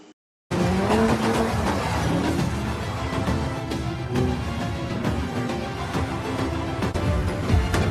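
A car chase from the film Fast X, with tyres squealing and engines roaring loudly and continuously, and repeated skids layered over a dense action soundtrack after a brief quiet start.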